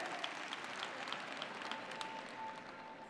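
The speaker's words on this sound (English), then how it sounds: "See, when you clap those wimpy claps" A church congregation applauds in a steady, dense wash of many hands. The clapping is faint and even and stays far off throughout the short stretch, with no standout voices.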